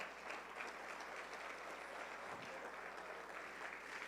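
A church congregation claps in praise during a sermon, a continuous, fairly quiet wash of applause with no voice over it.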